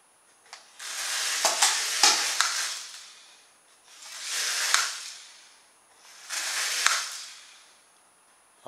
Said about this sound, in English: it sounds like there's some gears stripped inside, because the motor starts spinning before the rotors do